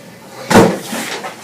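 A door slamming shut nearby, one loud thud followed by a short rattling tail, in an animated adventure film scene.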